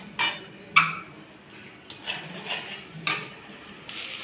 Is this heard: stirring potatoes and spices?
yes